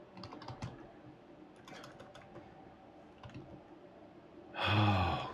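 Quick bursts of typing on a computer keyboard with scattered key clicks, quiet and close, followed by a loud sigh at the end.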